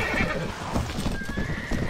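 A horse whinnies loudly in Mount & Blade Warband, its high neigh riding over rapid hoof clip-clops from a skirmish with desert bandits.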